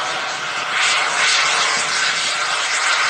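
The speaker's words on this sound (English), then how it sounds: "This type of aircraft has a tight maneuvering capability" A Rafale fighter jet roars loudly past at an outdoor July 4th airshow, a steady broadband engine rush that swells and holds without talk.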